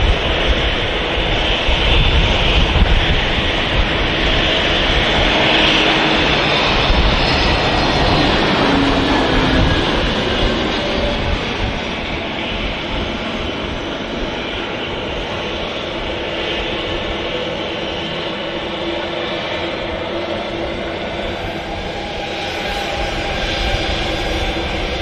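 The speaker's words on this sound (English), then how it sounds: "Ryanair 737 on the move." A Ryanair Boeing 737 jet taxis at Manchester Airport, its engines producing a loud, continuous roar and whine that holds steady throughout, heard close and without any voices.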